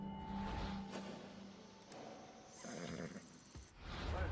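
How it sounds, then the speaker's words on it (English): Horse neighing in the video game Assassin's Creed Odyssey, a faint whinny rising over a soft wash of background game sound and music. "What is that horse?"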